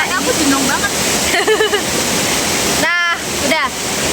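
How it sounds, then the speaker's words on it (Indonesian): An outdoor waterfall at Pacet gives a loud, steady broadband rush throughout, with people talking over it. "jadi kita lagi di air terjun"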